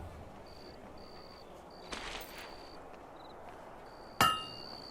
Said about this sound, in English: A perfect hammer blow.